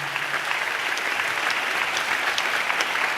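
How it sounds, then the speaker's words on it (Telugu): Congregation applauding during a church sermon, dense continuous clapping from many hands, loud and close, with no talk over it. "చప్పట్లు కొడితే యేసయ్యకు స్తోత్రాలు చెప్దాం."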